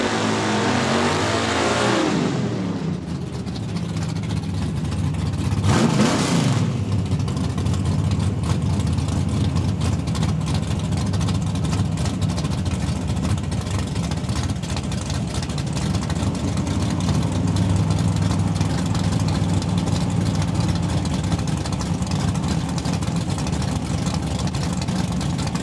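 Drag racing at Saskatchewan International Raceway in Saskatoon: a loud engine revs sharply near the start, then a steady, sustained roar of racing cars continues at close range throughout, with no talk over it.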